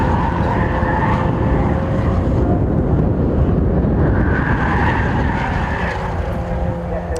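A Mazda MX-5 race car runs on the Donington Park circuit during a championship round. The engine drones steadily and rises as the car passes, with a commentator talking over it.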